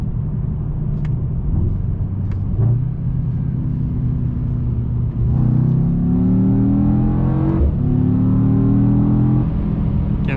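A 2021 Mercedes E63S AMG sedan accelerating hard in race mode from about 80 to 130: a loud, deep engine roar climbing through the gears, with rising pitch sweeps and brief shift dips, heard from inside the car.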